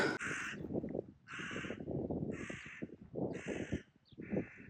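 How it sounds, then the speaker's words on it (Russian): A crow caws loudly and repeatedly, five harsh calls in a steady rhythm, close by with no talk. "Не дает нам ворона спокойно поговорить"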